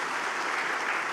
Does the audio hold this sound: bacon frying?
no